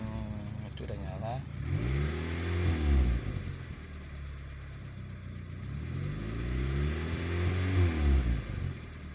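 Peugeot 206 engine with a stalling and hard-starting fault, revved twice from around 800 rpm idle, each rise and fall of pitch clear and close, with voices talking over it.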